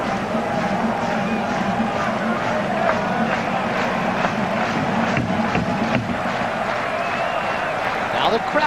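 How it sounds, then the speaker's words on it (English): Baseball crowd at a 1997 Phillies vs Blue Jays game roars and cheers in a steady, broad wash of noise throughout, with an announcer talking over it. "The crowd gets into it."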